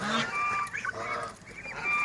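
Month-old Chinese white goose goslings honk in a close, busy chorus of repeated calls with no talk over them.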